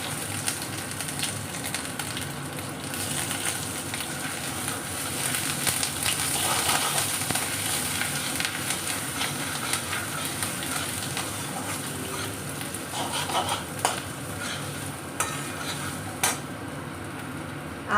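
Crushed ginger sizzles in hot spiced oil for a Bengali nim chalkumro shukto: a steady crackling fry throughout, with occasional clinks of a utensil against the pan and no talk.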